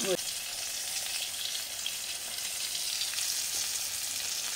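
Potatoes hiss and sizzle steadily in hot oil in a pan alongside fried duck eggs, a loud continuous crackle with a brief clatter as they drop in at the start.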